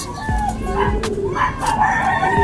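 A four-month-old young gamecock rooster crows close by, a short rough cock-a-doodle call with some clucking around it and faint background noise.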